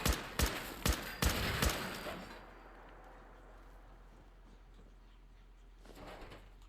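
Automated turrets in Fallout 4 let off a handful of sharp, loud shots in quick succession. A low hum follows, and a faint noise rises near the end. No voices are heard.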